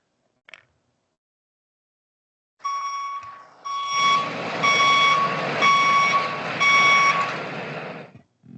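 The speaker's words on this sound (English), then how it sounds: "That's what we're hearing right now when the backup alarms in the town vehicles" A vehicle's backup alarm beeps in a steady repeating rhythm over the rumble of its engine, fairly close, after a short quiet start.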